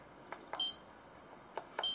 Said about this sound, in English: Beep sound. You can turn on or off the menu beep.